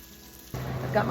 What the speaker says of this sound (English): I'm gonna let this fry for a couple minutes probably on each side